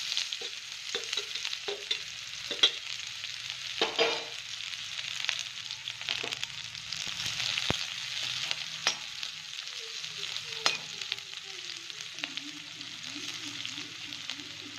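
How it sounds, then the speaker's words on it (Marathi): Mustard seeds crackle in hot oil and chopped onion fries for a Maharashtrian dal-onion dish, producing scattered pops and clicks over a soft sizzle, with stirring scrapes and a faint voice in the background. "मोहरी चांगली कडकडली की त्याच्यानंतर कांदा टाकू"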